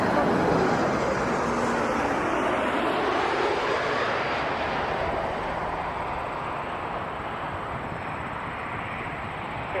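An Air Canada jet airliner takes off from runway 23, its engines a loud, broad continuous roar that slowly fades as the aircraft pulls away.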